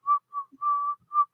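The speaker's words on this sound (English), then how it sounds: "Whistle Jingle Bells." A person whistles the opening of Jingle Bells, four clear, close notes with short gaps, the third note held longest, heard alone against silence.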